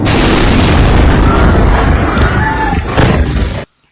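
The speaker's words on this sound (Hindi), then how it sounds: "इतने में ही वहां एक और बड़ा विस्फोट होता है" A huge, roaring explosion in Beirut, Lebanon, fills the air with a sustained rumbling blast that lasts several seconds before cutting off abruptly.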